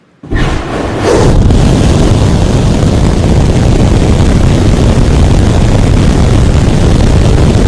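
SpaceX Raptor 3 rocket engines, made in Hawthorne, California, fire in a test, bursting from silence into a loud, steady, broadband roar that holds unbroken for several seconds.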